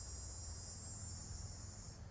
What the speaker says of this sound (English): I'm hearing cicadas right now